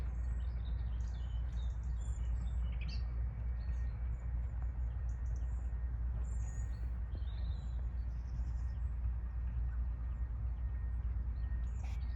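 Outdoors at a feeder fishing spot, a small bird chirps faintly in scattered high tweets over a steady low rumble of background noise.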